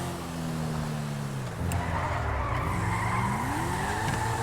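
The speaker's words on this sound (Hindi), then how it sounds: "व्हाट अ ड्रिफ्ट भाई" A Toyota Supra drifting in GTA V, with tires squealing in long wavering tones over a steady engine drone, loud and close, a brief lull then the screech rising again.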